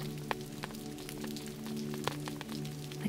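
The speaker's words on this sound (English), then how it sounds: "Rain patters on the canopy above the sleeping nook." Rain pattering on the canopy above the sleeping nook of a camper on a stormy night, a soft, steady patter of light drops with a few sharper taps, faint and even beneath a low hum.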